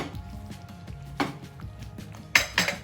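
A lid set onto a cooking pot of prawn oats khichdi, with soft metallic clinks then a sharper clatter near the end, close and fairly quiet.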